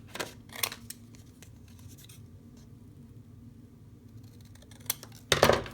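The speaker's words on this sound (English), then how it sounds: "And then I'm going to cut this with a little bit of a border." Scissors cutting paper for a journal cover, a few short crisp snips near the start and a louder burst of cutting at the end, separated by quiet.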